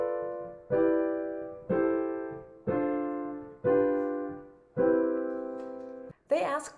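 An easy chord progression on piano, six sustained chords struck one after another at a steady unhurried pace, each ringing and fading before the next, ending on a brief higher flourish.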